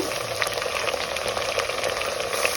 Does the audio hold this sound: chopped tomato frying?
yes